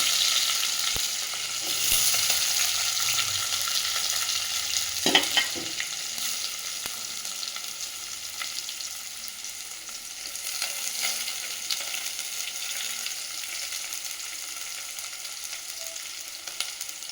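Onion, garlic and curry leaves frying in a pan after mustard seeds have popped, a steady close sizzle with occasional stirring scrapes, for a village-style river carp fish curry.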